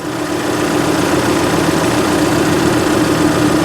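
A tractor's diesel engine idles close by, a steady low chugging rumble with constant vibration and no pauses.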